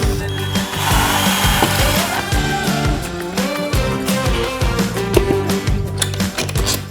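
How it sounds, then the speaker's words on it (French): An electric drill bores fixing holes into a plasterboard wall, a loud whining, grinding buzz that surges and dips in bursts across the whole stretch, close up with no talking. "On va passer au perçage. On est sur un mur en placo,"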